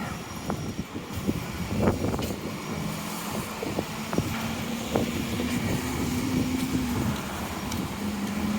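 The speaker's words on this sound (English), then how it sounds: "Every direction I point it, I still get wind." Wind gusts and buffets during a rainy July walk along Robie Street and North End, with scattered sharp knocks and a low traffic hum rising underneath, rough and continuous.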